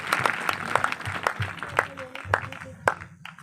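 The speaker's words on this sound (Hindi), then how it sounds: "जोरदार तालियों से प्रभु की महिमा करेंगे।" A church congregation at a Christian ministry gathering claps, with irregular sharp handclaps close by, mixed with voices in the room.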